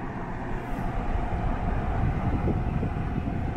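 A portable electric fan runs on its second speed, a steady low whooshing rumble of moving air heard close and continuous for a few seconds.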